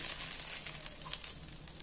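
Hot spiced oil tempering with red chilli is poured into spinach dal and gives a faint, hissing sizzle that crackles softly throughout the short moment, with no voices.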